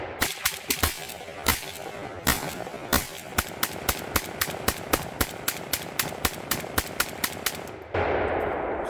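An AK rifle with a new muzzle brake fires a long string of around two dozen sharp, loud shots at a quick, fairly even pace at an outdoor range. A burst of rushing noise follows the last shot.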